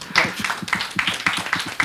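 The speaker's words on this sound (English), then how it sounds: "So he deserves a big round of applause." A short burst of applause, many hands clapping quickly and unevenly at moderate volume.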